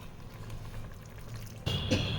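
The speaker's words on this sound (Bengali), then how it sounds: "কুকারটা ধুয়ে বাকি যেটুকুন লেগেছিল সেই জলটাও দিয়ে দিচ্ছি।" Leftover rinse water from a pressure cooker poured into a pot of mung dal with peas and spinach, a short splash that starts suddenly and runs loud and close.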